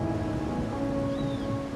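Rain falls steadily in Wuthering Waves, a soft, even hiss of rainfall with a faint low rumble beneath and a steady tonal hum from the game.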